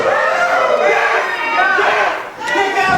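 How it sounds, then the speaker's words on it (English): A wrestling crowd at a pro wrestling show roars and jeers in sustained, loud disapproval after the match result, a dense wall of shouting voices that dips briefly and swells again. "Crowd is absolutely upset about this result."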